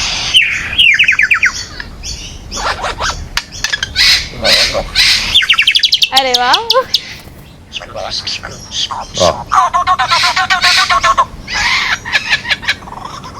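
A performer imitates the calls of many different birds with his voice. Loud whistles, rapid chirps, warbling trills and gobble-like cries follow one another in quick bursts, with a brief exclamation from another person.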